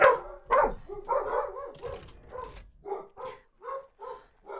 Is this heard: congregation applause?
no